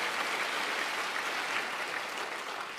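Steady applause from a large audience at a college commencement ceremony, a dense even wash of clapping heard from a distance, moderately quiet and with no talk over it.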